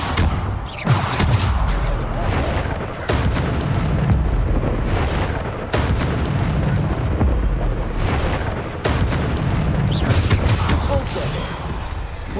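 Repeated Bombarda explosion spells burst in rapid succession during wizard combat in Hogwarts Legacy, loud booming blasts layered with crackling impacts and game effects, no voices.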